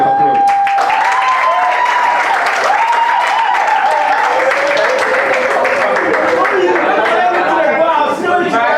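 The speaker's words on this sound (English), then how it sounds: "give the prize with a very big round of applause" A crowd applauds at the Togo National Debate Championships 2019 prize giving, with loud, sustained clapping mixed with cheering and excited voices rising and falling above it throughout.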